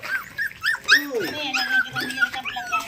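Several dogs whimper and yip in high, whining bursts, close by, with excited overlapping cries and a few short barks.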